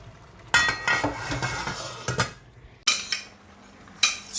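Rice being washed in a metal pot in a home kitchen while cooking a Christmas meal: clattering, clinking scrapes and sloshing in uneven bursts, close and fairly loud, with short pauses between rounds.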